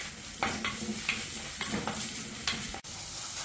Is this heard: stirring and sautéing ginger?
yes